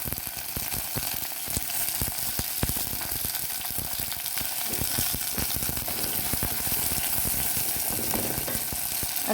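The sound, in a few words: onions and tomato frying in a pan for sardine curry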